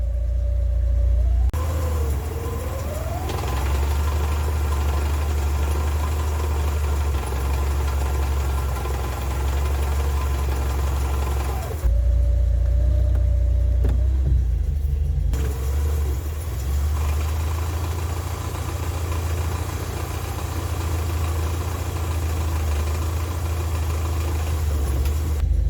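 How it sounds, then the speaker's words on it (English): A classic car engine idles with a low steady rumble while a gearbox in reverse adds a sustained whining tone that rises and holds, dropping away briefly midway before returning. "let's see what happens when I put the gearbox in reverse. Are we going to get the charismatic whine?"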